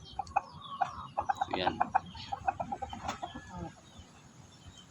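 Rooster of a bred Hulo Basilan line clucking in a quick, close series of short calls near a brood of chicks, with someone speaking briefly over it.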